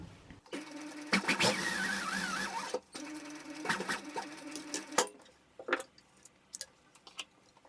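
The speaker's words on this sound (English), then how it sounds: "I'm going to sew another 1 centimetre seam allowance" A sewing machine stitching a 1 centimetre seam allowance in two bursts of steady rapid whirring, close and clear, followed by quieter clicks and handling noises.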